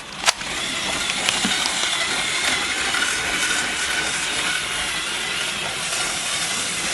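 A Lego 10194 Emerald Night train set running on its track gives a steady, faint whirring hiss that is continuous throughout with no speech, after one brief click at the start.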